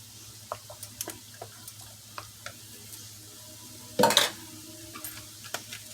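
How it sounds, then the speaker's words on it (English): A spoon stirs baked bean chili in a pot, giving soft scraping and clinking taps scattered through a quiet kitchen, with one louder burst of scraping near the end. "Give that a stir."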